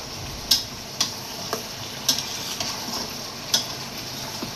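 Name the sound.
pumpkin being sautéed with spices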